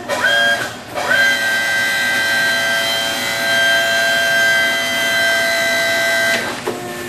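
Monster AG-TT tire changer bead breaker lowering: a loud sustained mechanical whine with strong steady harmonic tones lasting about five seconds, starting and stopping abruptly, with a brief burst just before it.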